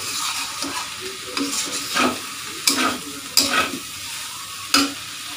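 Curry with spices being sautéed in a pan, a steady sizzle under repeated stirring and scraping strokes, with a few sharper clanks of the utensil against the pan, close and alone without talk.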